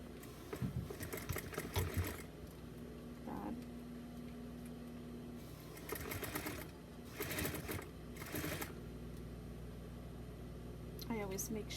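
Sewing machine stitching a Sukumizu-style bodysuit for a Smart Doll, running in a few short whirring bursts separated by pauses, close up, with a person talking between runs.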